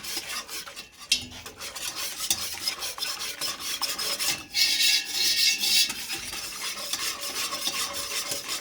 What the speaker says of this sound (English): This one I'm stirring now. This is a bigger pot. And I'm just stirring to keep it from burning.